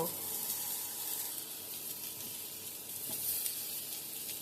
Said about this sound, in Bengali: পটলগুলো আমি হালকা ভেজে নেব